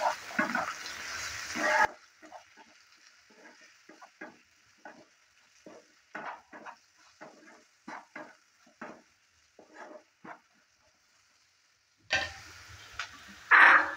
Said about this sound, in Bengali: সব কিছু দেওয়ার পর ভালো করে আবারও নেড়ে চেড়ে নিচ্ছি।